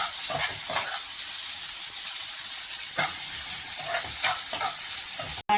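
Onions sizzle and fry steadily in a pan for Chettinad chicken gravy, with a bright continuous hiss, scattered stirring clicks and a brief dropout near the end.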